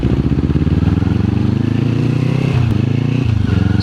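Kawasaki Z400 motorcycle fitted with a long canister exhaust idles and burbles loud and close, a steady rapid engine pulse with no talking over it.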